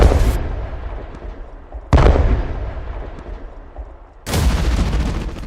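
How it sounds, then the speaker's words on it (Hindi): Three loud bursts of Kalashnikov rifle fire, each a sharp crack followed by a long rumbling echo that fades out before the next burst. "दोनों सैनिक उस पर अपनी कलाश्निकोव राइफल से गोली चला रहे हैं"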